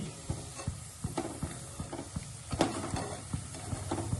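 A Punjabi tadka sizzles in a pan while a spoon stirs it, with rhythmic scraping knocks about every half second over a steady close frying hiss.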